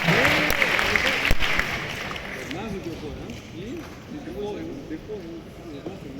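Audience applause welcoming a performer at The Shia Voice finals, a hall of clapping hands that starts strong then thins out, with voices talking over it.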